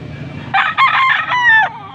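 Young roosters (stags) crow at a gamefowl sale, a few close, loud overlapping cock-a-doodle-doo calls over about a second and a half, with faint background murmur before them.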